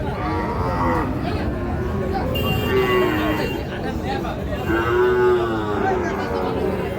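A Sahiwal bull calf, about seven to eight months old, at a village cattle market lets out two drawn-out moos amid the constant murmur of a crowd talking nearby.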